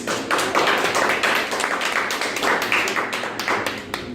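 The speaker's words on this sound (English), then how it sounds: "can we please give a round of applause for Sean Au of ConsenSys Academy" An audience at an early Saturday morning blockchain education talk claps for a ConsenSys Academy speaker: dense, sharp clapping, close and loud, with a slightly uneven rhythm throughout.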